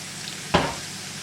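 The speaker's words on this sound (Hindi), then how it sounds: "इसको आपने इतना फ्राई करना है कि प्याज जो है गोल्डन कलर की तरफ आ जाए" Sliced onions with dry spices dropped into hot oil for kalonji chana dal, a single sudden loud sizzle that then settles into a soft frying hiss, close by.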